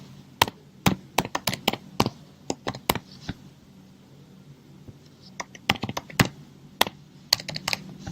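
Quick bursts of typing on a computer keyboard, sharp close clicks in uneven runs separated by short pauses, with faint talk in the background.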